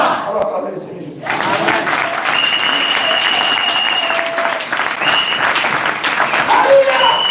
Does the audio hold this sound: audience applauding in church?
yes